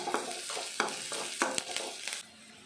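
Onions frying in oil with turmeric for a banana flower stir-fry, a soft sizzle broken by a run of light scraping stirs against the pan, quiet and close, with no voices, fading to a low hiss at the end.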